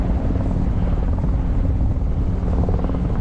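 Coast Guard helicopter passing overhead above the ice on the Charles River, a loud continuous low rotor thrum and engine roar filling the clip with no talk.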